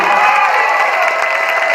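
A crowd at a high school academic celebration cheers and applauds for standing teachers, a loud, dense burst of clapping and shouting voices.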